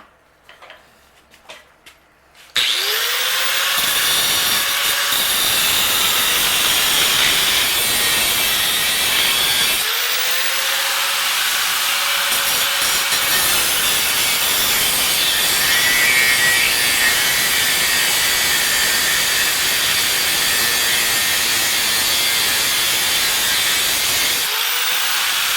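A power tool cuts a weld loose on a Nissan Hardbody truck, a harsh, loud grinding screech running almost continuously with two brief pauses where the motor winds down and restarts.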